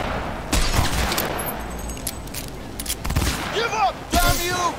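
Gunfire aimed at the player in Cyberpunk 2077: loud, close bursts of rapid shots and sharp cracks, with whistling, chirping whizzes in between.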